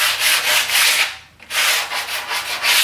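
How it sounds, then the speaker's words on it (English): Sandpaper rubs back and forth over a wooden growth chart board, roughening its edges in steady, close, scratchy strokes with one brief pause midway. "I'm gonna sand this one down because this one also needs sanding, at least on the edges."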